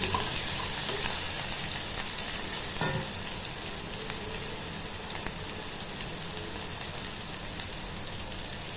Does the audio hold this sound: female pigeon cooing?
no